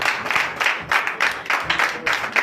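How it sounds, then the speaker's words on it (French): Applause breaks out during a Sunday church service in Comè, Benin, the congregation clapping in a steady, rhythmic burst that rises and falls in regular pulses, fairly close and alone without talk. "Ça demande à ce que vous applaudissez."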